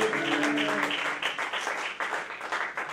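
Church congregation applauding and cheering for Jesus during a French-language service, a dense wash of clapping with a voice sounding over the start, fading slightly toward the end.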